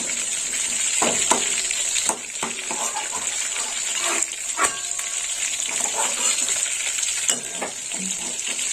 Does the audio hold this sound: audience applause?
no